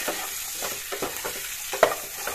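Salt and turmeric get stirred into hot oil in a pan for an egg curry with ridge gourd, a steady sizzle broken by quick rhythmic spatula strokes and one sharp clink, close and alone.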